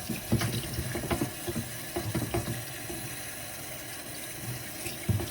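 A tempera resist print is rinsed under a running tap, with a steady rush of water and uneven splashing bursts as the paper is moved through the stream, close and moderately quiet.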